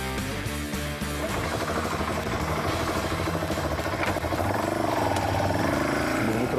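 Chinese dirt-bike style motorcycle engine running steadily with a continuous mid-pitched drone and harmonic hum, fairly close and sustained throughout with no clear talk.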